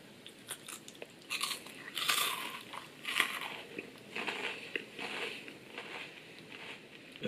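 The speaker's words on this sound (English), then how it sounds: "Are you seeing the layers of wafers? They're all piled up, and the crunch is so satisfying." Coffee Crisp Minis, a wafer chocolate bar with layered wafers and vanilla filling, being bitten and chewed up close, with sharp crisp crunches repeating in bursts for several seconds and no talk.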